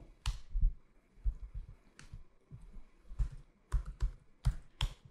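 Fingers tapping on a computer keyboard in quick, irregular bursts of soft clicks, close and quiet with no talk over them.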